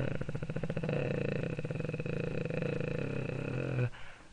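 A voice imitates a tractor engine with a low, steady, chugging rumble that runs for several seconds before cutting off abruptly.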